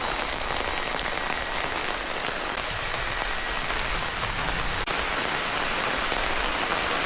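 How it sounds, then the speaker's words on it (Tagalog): Steady rain falling with wind in a rural sitio, a dense, even hiss of drops on surfaces filling the whole stretch, loud and close, with one brief knock near the end. "Umuulan na. At humahangin-hangin pa."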